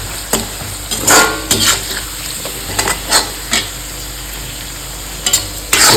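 Tuna frying in hot oil in an iron pan over a low flame, a continuous close sizzle punctuated by irregular scraping stirs of a spatula.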